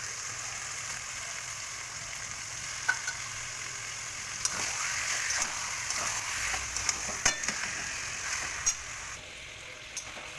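Mutton pieces fry in hot oil with ginger garlic paste, giving a steady, close, bright sizzle throughout, broken by occasional clicks and scrapes of stirring.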